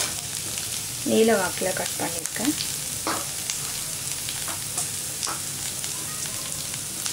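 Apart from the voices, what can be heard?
onions frying in oil for cauliflower poriyal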